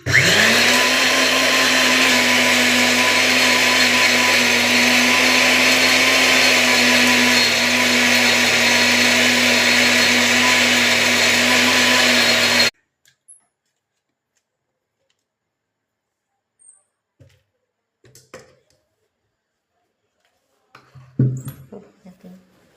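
An electric pulverizer machine grinds material into fine powder with a loud, steady motor roar for about thirteen seconds. It then cuts off abruptly, leaving near silence broken by a few small knocks and handling sounds.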